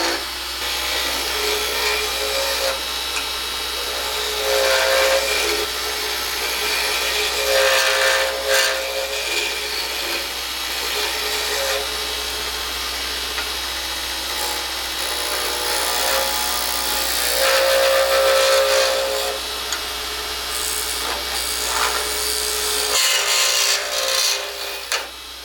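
A snakeskin pen blank is shaped on a spinning lathe, a loud continuous whirring hum with scraping tool contact that swells and fades over about twenty-five seconds, with no voices.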